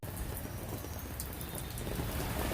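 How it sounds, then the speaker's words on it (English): Heavy rain falls on the streets of Hanoi, Vietnam, a steady close hiss of water pouring down with faint low rumbles underneath and no voices. "it's still raining really hard. It's coming down quite heavily."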